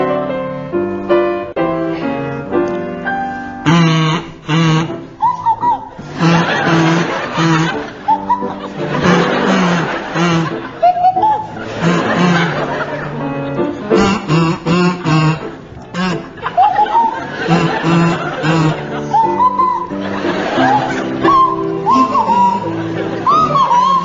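A kazoo buzzes out a melody while a swanee whistle swoops up and down alongside it, on a live comedy radio panel show stage, with an audience laughing throughout.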